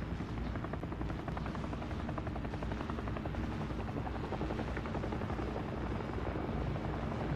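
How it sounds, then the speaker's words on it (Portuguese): A helicopter in the video game Call of Duty: Modern Warfare gives a steady, loud, throbbing rotor drone that carries on unbroken, with no voices. "Você viu que é helicóptero?"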